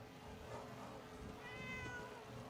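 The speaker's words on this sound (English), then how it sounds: "it's a kitty cat." A cat meows once in a VR video game, a soft rising meow over a constant low game hum, faint and without voices.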